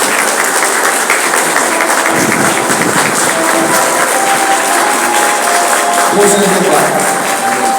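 Church congregation at an Adventist baptism service applauding the newly baptized members, sustained broad clapping filling the room throughout, with a voice speaking briefly over it.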